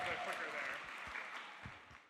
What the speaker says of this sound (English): Give a huge round of applause to Alex